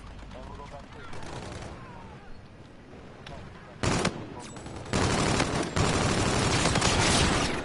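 Bursts of automatic gunfire in Call of Duty: Infinite Warfare, quieter fire at first, then a loud sharp crack and dense, sustained rapid shooting with explosive impacts, with voices talking underneath.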